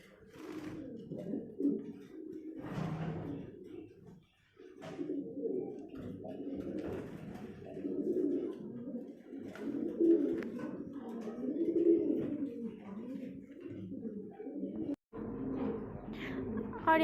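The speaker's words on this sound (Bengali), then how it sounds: "আর এই পায়রা দুটো খুবই সুন্দর," Pigeons cooing close by in low, repeated throaty calls throughout, with a few sharp knocks and a short dropout near the end.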